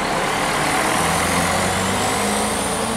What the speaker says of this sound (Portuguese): Aqui temos autocarro.